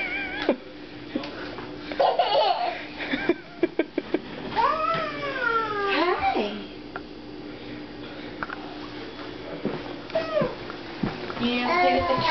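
A cat meows repeatedly at close range, with drawn-out rising and falling yowls that come in bursts, alongside light background activity and a few brief vocal sounds.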